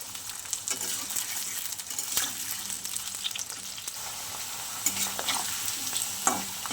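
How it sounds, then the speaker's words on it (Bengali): Potatoes fry in a pan for a fish curry, a constant close sizzle with repeated scraping stirs and occasional sharper clicks of the spatula on the pan, no speech. "আলুগুলো একটু ভেজে নিই।"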